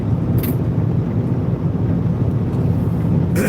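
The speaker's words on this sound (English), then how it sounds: "It's just the engine noise, it's just the wind going by." Car engine drone and wind rushing past while driving with the windows rolled up, a steady low rumble and hiss filling the whole stretch, with a couple of brief high clicks or bumps.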